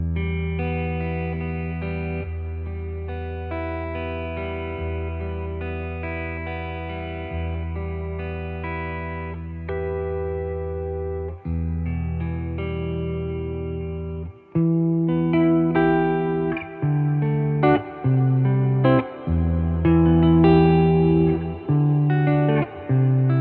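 A sustained electric guitar runs through a Walrus Audio Mako modulation pedal into a Fender Deluxe Reverb amp, giving loud, shimmering chords that ring alone and then shift into a louder, rhythmic run of chords.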